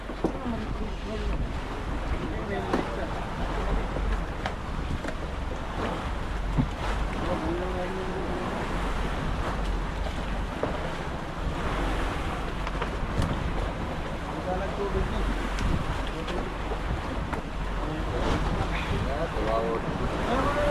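Rough sea waves wash and slap around a fishing boat on the Pacific, a continuous churning rush with wind buffeting the microphone and gusts of spray, while voices talk intermittently over it.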